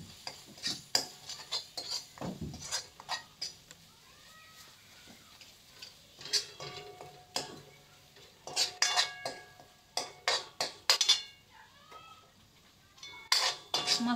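Malvani fish curry masala with red chilli, coriander powder and homemade garam masala being stirred in a pan: repeated metal spatula scrapes and clinks against the pan in irregular bursts over a faint sizzle, fairly close.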